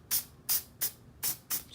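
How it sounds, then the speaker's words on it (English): Adhesive sprays from an aerosol can in five short, sharp hissing bursts, evenly spaced and close, with near silence between them. "Spray a little more adhesive,"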